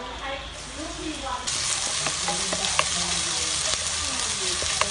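Oil sizzles and crackles loudly in a hot pan, the frying jumping in intensity partway through as pounded chili and garlic go in, with occasional stirring clatter.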